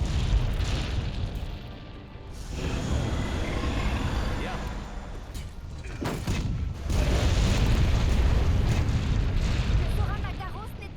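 Cannon fire and explosions from the video game Monster Hunter World, a loud continuous rumble of deep booms that surges and fades, with game voices mixed in throughout.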